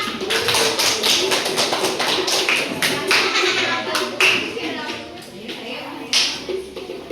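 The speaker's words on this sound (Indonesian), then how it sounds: "Tepuk tangan semuanya." Schoolchildren in a classroom clap their hands in an uneven scatter of sharp claps, loud and close, with children's voices chattering underneath.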